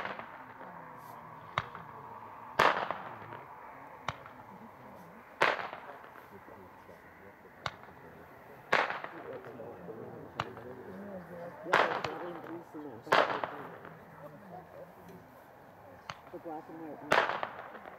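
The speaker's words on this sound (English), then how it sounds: "Roman candle we'll be shooting is called Flashing Thunder. This is an 8-ball Roman candle" Flashing Thunder 8-ball Roman candle fireworks fire in sequence, sharp loud bangs at intervals of roughly two to three seconds with fainter pops between, outdoors with crowd voices under them.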